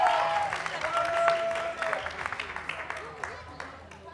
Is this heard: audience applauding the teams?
yes